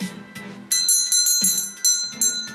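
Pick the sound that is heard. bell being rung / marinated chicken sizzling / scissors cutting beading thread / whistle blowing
bell being rung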